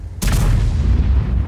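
A tank cannon fires in World of Tanks from a Jagdpanzer E100 tank destroyer: one sudden loud boom followed by a deep, rumbling low tail that lingers to the end.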